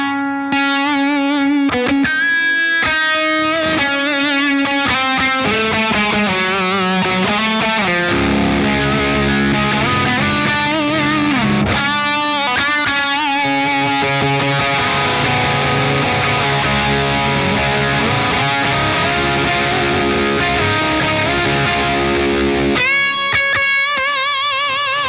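Electric guitar run through effects pedals with reverb and delay, distorted chords and melodic notes ringing out and trailing into washy echoes, loud and continuous with brief pauses between phrases.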